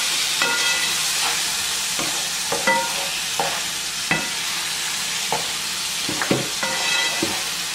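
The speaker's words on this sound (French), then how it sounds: "On voit la viande qui commence à prendre une petite couleur dorée, enfin, un peu marron, tout ça, c'est qu'elle est bien en train de cuire." Meatballs for spaghetti fry and sizzle in a pan under a steady hiss, with repeated scraping clacks of a utensil stirring them at an uneven rhythm, close and clear, no voices.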